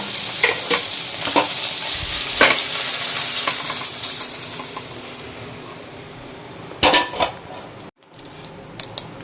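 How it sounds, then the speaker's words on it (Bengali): Paneer pieces stir-frying in hot oil in a pan, a steady close sizzle with repeated scraping and clinking of a spoon against the metal, a few sharper knocks near the end, no voices. "হালকা করে নাড়িয়ে নিতে হবে, গোল্ডেন ব্রাউন হয়ে গেলে তখন নামিয়ে নিতে হবে"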